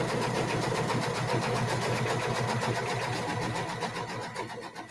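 An embroidery sewing machine stitches a quilt block in a fast, steady mechanical hum with an even rapid needle rhythm, loud and close throughout, easing slightly at the end.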